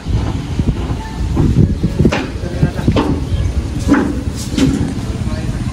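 Strong wind roars steadily against the microphone in broad, constant gusts outdoors, with a voice speaking under it.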